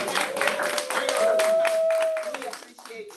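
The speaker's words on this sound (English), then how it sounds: "give a round of applause" Audience applause at a board meeting, a steady broadband patter of clapping under a sustained tone and voices, tapering off toward the end.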